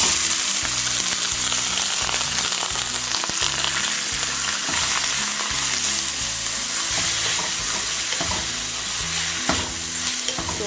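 Onions frying in hot oil for a kofta curry, a steady, close crackling sizzle with small bursts and stirring clatter running continuously throughout, no voices.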